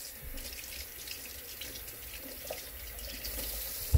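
Hot tap water runs steadily from a faucet into a kitchen sink, a continuous close hiss and splash with no talk over it.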